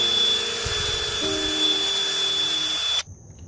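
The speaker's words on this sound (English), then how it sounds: "there's just a couple spots I couldn't get to with my wire brush on the drill" A power drill fitted with a wire brush spins against a car's hose mount while cleaning it, giving a steady close high-pitched whir that shifts pitch once. It stops abruptly near the end, leaving a quiet hum.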